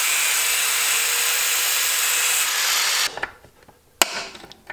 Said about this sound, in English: These short stitch welds, we're gonna remove them with an angle grinder.